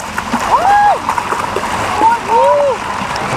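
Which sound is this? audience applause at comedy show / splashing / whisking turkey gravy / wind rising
splashing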